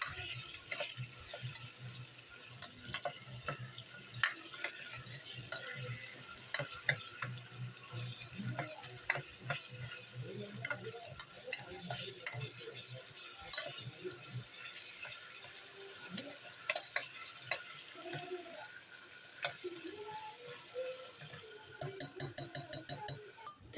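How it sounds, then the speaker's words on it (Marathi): Garlic paste frying in a pan, a steady sizzle with scattered scraping clicks of stirring throughout and a burst of quick metallic taps near the end. "मस्त ढवळायचं।"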